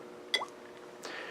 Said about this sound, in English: You can hear the engine chirping in the background.